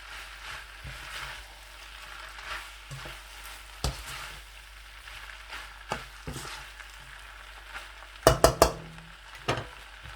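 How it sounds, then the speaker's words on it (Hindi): Chicken pieces stir-fried for chicken noodles crackle faintly in a pan while a metal spatula scrapes and clinks against the pan, with a cluster of sharp clinks near the end. "इस तरीके से हम जो पीसीज हैं चिकन के वो ऐड कर देंगे और इन्हें एक बार इन्हें मिक्स कर देंगे"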